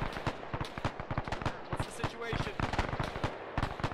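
Rapid, crackling volleys of gunfire from a military video game fire in quick irregular bursts throughout, fairly close and steady, with no talking over them.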